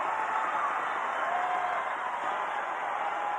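A wrestling arena crowd roars in a steady, loud wash of cheering and noise that continues without a break.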